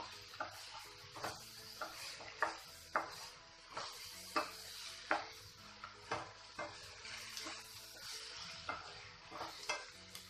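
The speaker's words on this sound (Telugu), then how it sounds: "ఎగ్స్ కొద్దిసేపు ఫ్రై అయిన తర్వాత ఇందులో పసుపుని యాడ్ చేసేసుకుందాము చేసుకొని మళ్ళీ అంతా ఒకసారి మిక్స్ చేసేసుకుందాము" Eggs with turmeric are stirred while frying in a pan for an egg, green chilli and onion curry. A spatula scrapes in a regular rhythm of soft knocks over a quiet, continuous sizzle, close and fairly faint, with no talking.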